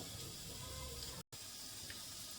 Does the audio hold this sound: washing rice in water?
yes